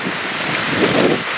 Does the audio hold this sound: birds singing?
no